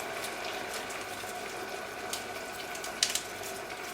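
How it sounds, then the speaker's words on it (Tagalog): Coconut milk and Thai red curry paste bubble in a pan over medium heat, a steady soft simmering hiss with faint pops and small clicks. "Now the coconut milk is bubbling away"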